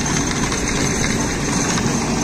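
A tractor engine runs freely, giving a steady, continuous mechanical hum with a low rumble throughout, close and even in loudness with no voices over it.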